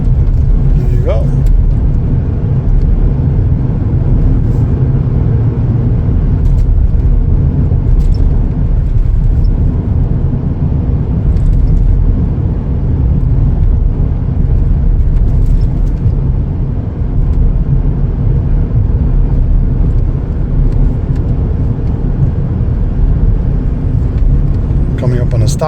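A 2021 Chevrolet Colorado Crew Cab LT pickup cruises along with a steady, close interior road and engine rumble that never lets up, and a voice occasionally speaks over it.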